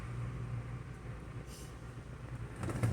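Amtrak train standing at the Massey, South Carolina station stop, a low steady engine idle and hum inside the car, with a brief hiss midway and faint clanks near the end.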